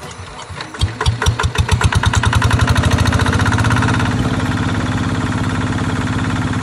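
A plow tractor engine cranks and catches, its chugging beats quickening into a steady, loud, rhythmic diesel idle that settles into a continuous throb, with no talking.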